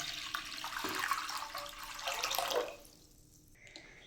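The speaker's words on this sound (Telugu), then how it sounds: "వన్ లీటర్ వాటర్ వేసుకొని వేడి చేసుకుందాం" One litre of water pours steadily into a kadai for a couple of seconds, then stops, leaving a quiet hiss and a few faint drips.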